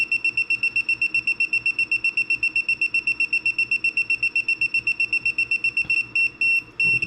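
A handheld household gas leak detector sounds its alarm, a rapid, regular, piercing electronic beep repeating close and loud, briefly stuttering near the end.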